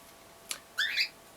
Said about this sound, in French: Vraiment désolé pour les oiseaux mais ils vont faire que de piailler